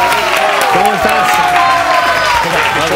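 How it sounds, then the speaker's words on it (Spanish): Studio audience applauding and cheering as a magician is welcomed onto a Spanish television variety show, a dense steady wash of clapping with crowd noise and music-like tones throughout. "Un aplauso para Chemi, por favor, adelante, Chemi."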